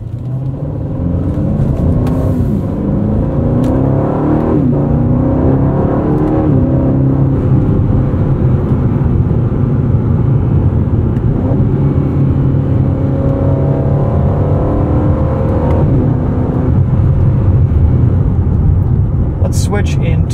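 A 2024 Aston Martin DB12 rumbles loudly from inside the cabin while driving, its engine note rising and falling through gear changes in a continuous drone, with a voice heard over it.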